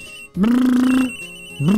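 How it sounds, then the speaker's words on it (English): Office telephone ringing in the Phoenix Wright: Ace Attorney video game, one loud sustained electronic ring tone followed by a short pause and the start of the next ring, clear and alone. "That's her phone."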